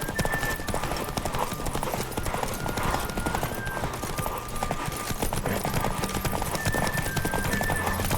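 Galloping horse in The Witcher 3 during a race, rapid steady hoofbeats pounding throughout, close and loud, with a few faint tonal whinny-like calls over the rhythm.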